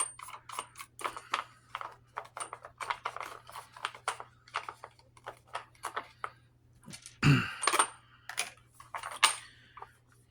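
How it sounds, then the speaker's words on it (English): Plastic tag packaging being pulled and torn off an Alienation Legend BMX seat, a run of close crinkles, snaps and small clicks with one louder rustling burst near the end. "Let me go ahead and get this tag packaging off of here real quick."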